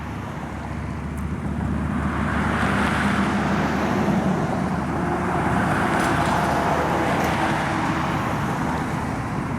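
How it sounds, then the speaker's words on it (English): Steady road and wind roar inside a moving 1969 Camaro SS 350 on a country road in Goodrich, Michigan, a constant broad rush with passing traffic swelling slightly, no voices. "little bit of traffic today"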